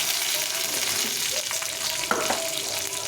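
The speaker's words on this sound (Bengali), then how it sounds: "দিয়ে শাকগুলোকে একটু ভেজে নিব" Cauliflower greens frying in a pan with black cumin seeds and green chillies, a steady broadband sizzle with a few brief crackles and stirring clinks, close and moderately loud, no talking.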